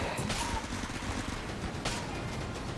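Weapon fire in the video game Enter the Gungeon, with a Pox Cannon and rockets going off: a dense, continuous rattle of rapid shots and bursts, with a couple of sharper hits, fairly quiet and unbroken.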